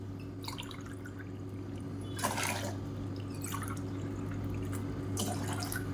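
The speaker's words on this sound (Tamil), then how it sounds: "5 டம்ளர் இருக்குது, இதில் ஊற்றிக்கலாம்." Water poured from a tumbler into a saucepan while making a nilavembu herbal decoction, giving a few brief splashy pours over a steady low hum, no talking.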